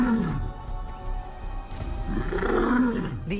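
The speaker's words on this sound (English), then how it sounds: "These roars declare not possession of territory, but availability." Lions roar in an African wilderness at Nsefu, with deep, loud, repeated calls rising and falling across the whole stretch, close and dominant with no talk.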